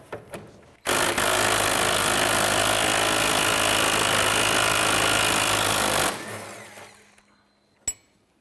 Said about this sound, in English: Using our 21 millimeter deep socket, we're going to go and remove this nut here